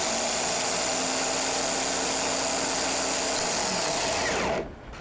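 A vehicle engine cranking on its starter motor, a steady loud mechanical whir with a tonal whine that runs for over four seconds before stopping abruptly.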